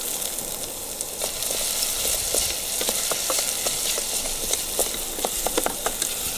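Onion, garlic and chosnik frying in a pan, a close steady sizzle with scattered pops and crackles throughout, no voices.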